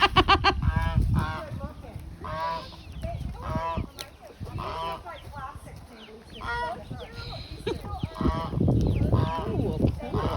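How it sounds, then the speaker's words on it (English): Several geese honk repeatedly at close range on a farm, loud nasal calls overlapping one another, with people talking in between. "Geese."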